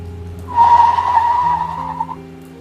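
A car braking hard on a rainy road gives one loud, sustained tire squeal lasting under two seconds, close and alone over a low engine hum.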